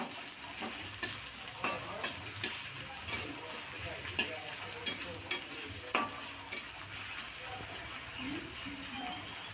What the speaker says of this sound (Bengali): এর সাথে একটু নুন অ্যাড করে দিলে ভাজাটা খুব ভালো হয় এবং সেদ্ধও হয়ে যায় পেঁয়াজটা